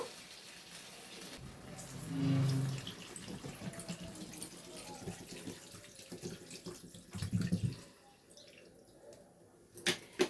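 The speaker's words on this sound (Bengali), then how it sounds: "আর একটু জল দেব।" Water is poured into a cooking pot of fish curry with winter vegetables, a soft rushing splash that swells twice over low kitchen background noise, fairly faint and close, with no voices.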